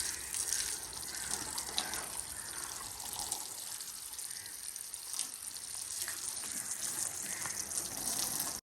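Running water pours and splashes steadily over an old wooden bird nest box being washed, a continuous close gushing stream without pause.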